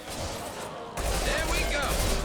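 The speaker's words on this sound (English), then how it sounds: "Firing a high-impact shot" A high-impact gunshot fires in Mass Effect Legendary Edition, a sudden loud burst that lands about a second in and leaves a sustained rumbling tail, over a steady game soundscape.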